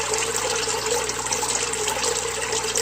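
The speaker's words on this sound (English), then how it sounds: "And that's moving some water." Water rushing and splashing steadily through a homemade pond filter drilled with rows of holes in a bucket, a continuous close, fairly loud flow with no voices.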